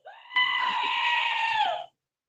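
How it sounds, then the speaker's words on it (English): A screaming goat sound effect lets out one loud, sustained, harsh bleat-scream of about a second and a half, starting with a short rising note and ending in a falling tail, alone and close. "Warning, screaming goat."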